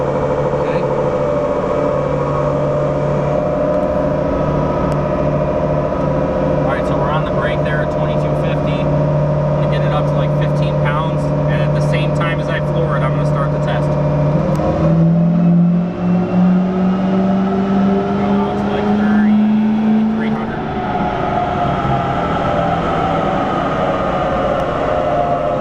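A tuned L5P Duramax diesel truck running on a dynamometer in fifth gear: a loud, sustained engine drone whose pitch climbs steadily, dips in a mid-run shift, then rises again, all with a heavy mechanical roar and whine.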